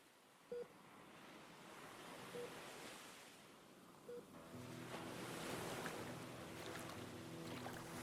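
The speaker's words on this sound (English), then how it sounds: "Water washing over feet, splashing through the wave" Ocean waves wash up onto a sandy beach and swirl around wading feet, a broad steady surf hiss that swells louder midway, with a few short splashy knocks near the start.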